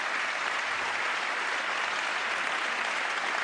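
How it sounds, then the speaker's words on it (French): A live audience at the Talents des Cités 2014 awards event in France claps continuously and densely for the honorees, a sustained, even wash of applause with no voices on top. "on va peut-être commencer par applaudir tous ces talents qui sont venus de toute la France"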